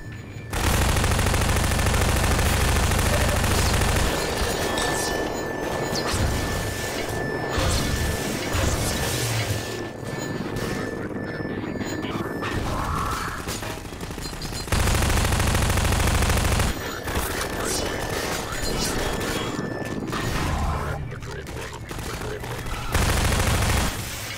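Loud, relentless video game gunfire, rapid automatic bursts mixed with crashing impacts and whooshes, with brief drops in intensity between volleys and a voice talking over parts of it.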